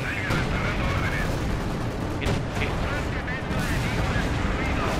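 Dense battlefield gunfire and artillery from the video game Company of Heroes 2 roar continuously, broadband and loud throughout, with sharp shot transients cutting through and a player talking over the din.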